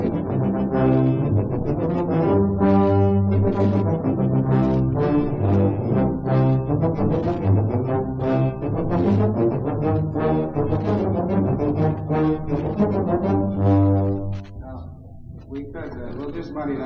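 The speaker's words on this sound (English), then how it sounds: "Here's another good example of low register playing in the organization, trombones and everybody else" A band plays a sustained low-register passage, with trombones and other brass in heavy, blaring chords that swell and punch in uneven rhythm.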